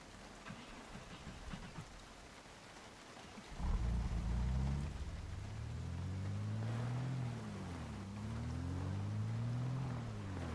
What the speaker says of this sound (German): Also, dann machen wir den Motor an.